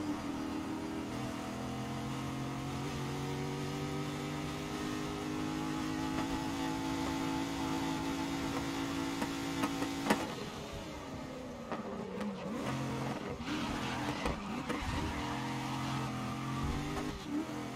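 A race car in the PC racing game GRID roars through a night event, its engine holding a steady high drone before shifting and revving through gear changes and corners, loud and continuous without talking.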